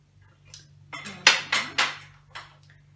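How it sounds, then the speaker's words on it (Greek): A knife cuts a green pepper in half, giving a quick run of four or five crisp, crunchy cuts close by, with quiet pauses around them. "Κόβω στη μέση. Πράσινη πιπεριά."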